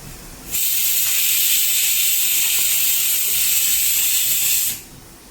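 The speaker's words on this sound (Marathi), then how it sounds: "मसाला छान परतून घेऊया तेल सुटूस तर." Spice masala of ginger-garlic paste, turmeric and red chilli powder fries in oil for pav bhaji, a loud, steady hiss that starts abruptly, holds for about four seconds, then cuts off.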